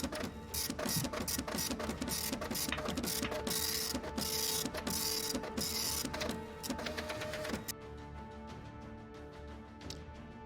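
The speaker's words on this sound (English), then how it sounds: "I heard that sound effect. I'm like, wait a second, why is there a printer going?" A printer runs steadily with whirring, clicking and ratcheting mechanical sounds, fairly close and continuous, then tapering into quieter, thinner mechanism noise near the end; no talking.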